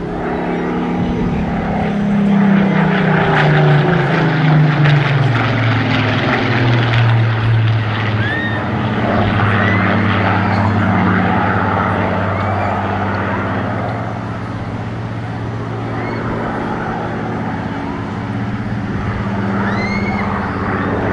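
A Rolls-Royce propeller aircraft flying a display at Bournemouth Air Festival, its engine drone loud and steady with shifting pitch as it passes, a commentator's voice running over the top.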